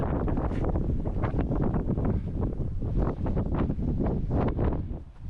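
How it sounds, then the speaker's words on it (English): Strong wind buffeting a microphone in heavy gusts at a campsite on the Northumbrian coast, a loud continuous roar with surging bursts. "It's very windy."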